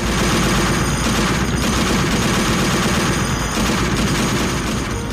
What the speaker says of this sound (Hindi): दोनों तरफ से गोलियां बरसाई जा रही हैं।